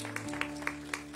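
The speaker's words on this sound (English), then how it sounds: "Please clap for Jesus" A church congregation claps for Jesus in a steady, evenly spaced beat of about four claps a second. The claps are faint and sit over a constant low hum.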